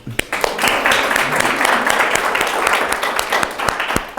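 Audience applause at a National Trust Fund event for the Pilgrimage Project: steady, dense clapping from a crowd that fills the whole stretch at an even level, with scattered louder individual claps standing out.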